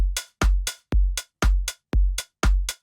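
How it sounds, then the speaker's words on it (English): Organic house drum groove with a short, snappy open hi-hat sample whose tail is cut off, alternating punchy low kicks with crisp bright hat hits in a steady, loud, even rhythm, no voices. "I decreased the sustain so it sounded short and snappy."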